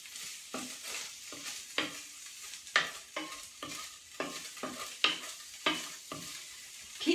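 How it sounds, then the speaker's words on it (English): Ginger and chillies cooking in a hot pan, a soft sizzle under a series of sharp scraping stirs, roughly one stroke every half second, close and clear with no speech. "And I'm going to give it a good stir."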